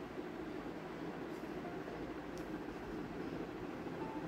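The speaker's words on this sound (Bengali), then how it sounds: "এখন আমি ট্রেনের মধ্যে বসে আছি" Inside a moving passenger train, a steady low rumble and hiss of the carriage fills the space, faint and continuous, with no voices.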